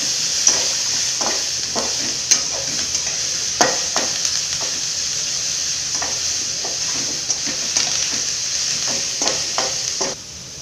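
Ridge gourd sautéing with coriander and curry leaves in a pan, a steady loud sizzle and hiss running throughout, broken by repeated close scrapes and clacks of a stirring spoon.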